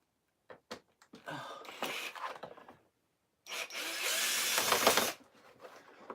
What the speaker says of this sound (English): Oh, drill makes it so much easier on my wrist.